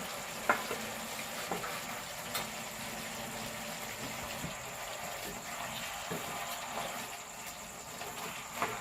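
Tomato being stirred into chicken curry in a pan, a quiet steady simmer and sizzle with a few soft scraping and stirring clinks, close and alone.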